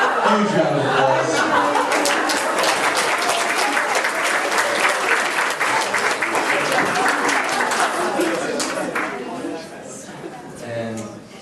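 An audience at a comedy hypnosis show at a school after-grad event gives loud, sustained applause mixed with chuckles and cheering. It runs for about nine seconds before easing off into quieter murmurs.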